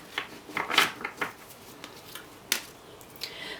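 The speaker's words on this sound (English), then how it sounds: "they're quite stiff cards and they have to be shuffled like this" Stiff tarot cards being shuffled by hand: soft, faint papery riffles and taps in irregular bursts, quiet and close, with no talking.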